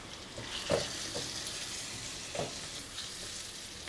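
Tomatoes and turmeric fry in a pan with a steady, soft sizzle, broken by a few light stirring clinks and scrapes.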